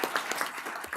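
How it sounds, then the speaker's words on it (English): Applause at a city council meeting, a dense crowd of hands clapping continuously at a steady moderate level. "a big round of applause for our group"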